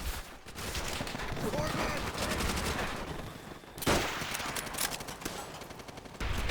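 Sustained machine gun fire from a World War II battle in Call of Duty: World at War, with dense continuous bursts and a loud blast partway through.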